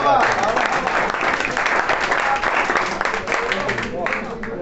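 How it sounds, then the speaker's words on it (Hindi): A crowd at a college farewell party breaks into loud, sustained applause, dense clapping that continues throughout before easing slightly at the end. "इसमें तालियां होनी चाहिए"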